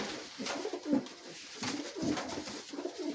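Giribaz pigeons coo in soft, low, repeated calls, several rounded coos rising and fading close by with no talk over them.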